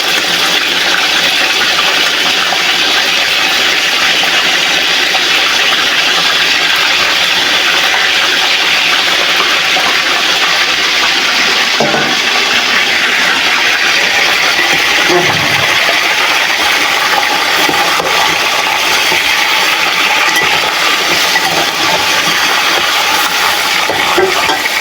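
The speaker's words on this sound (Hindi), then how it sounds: "चिकन जाते ही बेचारा तड़पने लग जाता है ना, कितना शोर होता है।" Chicken pieces, legs included, sizzle loudly in a pot of oil for Banarsi pillow biryani, a dense, steady hiss that fills the whole stretch without letting up.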